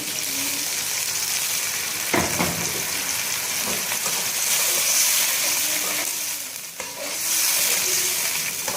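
A steady loud sizzle and hiss from a hot frying pan after water is added runs throughout, with brief clanks of stirring, close and continuous.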